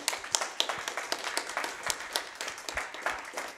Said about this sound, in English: Claps to the runners.